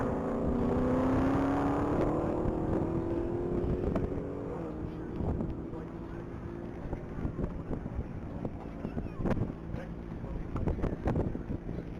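An 807-horsepower Dodge Charger accelerates down the runway at a top-speed mile event, its engine note rising steadily over strong wind rumble, then fading into distant broadband noise with scattered thumps.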